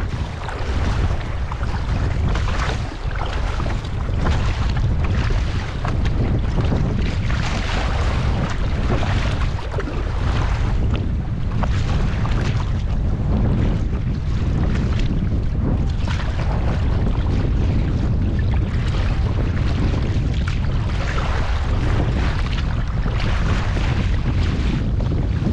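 Strong wind roars across the microphone while waves slosh and break around a kayak at sea in stormy conditions, loud, dense and unbroken throughout.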